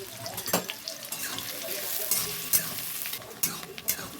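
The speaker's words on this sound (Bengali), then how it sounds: "এবার তেল গরম হয়ে গেছে, এবার পেঁয়াজ দেওয়া হচ্ছে তেলটাতে।" Onions tossed into hot oil in a wok, a close crackling sizzle under occasional stirring clatter and scrapes, steady throughout with a few sharper clicks.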